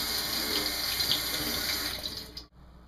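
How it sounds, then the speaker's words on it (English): Tap water runs steadily into a sink while fresh cilantro is rinsed, a continuous close splashing stream that stops abruptly near the end, with no talking. "So I'm just going to rinse it in water a little bit."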